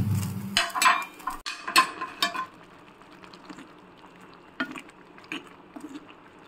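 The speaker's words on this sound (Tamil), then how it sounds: "இப்போ வந்து நல்லா வந்து கரண்டி வச்சு நல்லா வந்து கிண்டி கிண்டி விடணும்." A ladle stirring flour noodles in a cooking pot, close scraping and clinking of metal against the pot in irregular strokes, louder at first and then softer taps.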